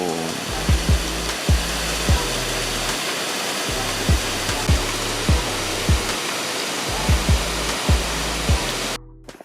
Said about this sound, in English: we find another waterfall.